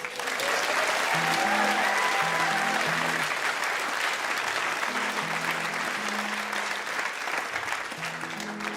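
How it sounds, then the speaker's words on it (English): Audience at a live comedy show applauding steadily, a dense, even wash of clapping that holds at full strength throughout with some low murmur mixed in. "I think we should definitely clap him."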